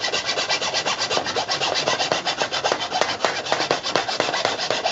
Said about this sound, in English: my preferred method is to saw through the clamp body itself